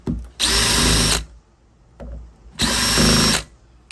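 A power driver unscrews long screws from a Schlage keypad deadbolt lock, whirring loudly in two bursts of nearly a second each with a short pause between them.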